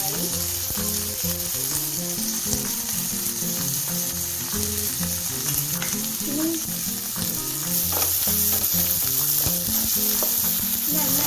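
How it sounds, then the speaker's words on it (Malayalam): Onions, green chillies and a little tomato sauté in a pan for egg thoran, giving a steady, close sizzle with frequent clinks of the spoon against the pan throughout. The level holds constant and no one speaks. "നന്നായിട്ടൊന്ന് വഴറ്റി കൊടുക്കണം പച്ചമണം നന്നായിട്ടൊന്ന് വെന്ത് നന്നായിട്ടൊന്ന് വെന്ത് വരാൻ"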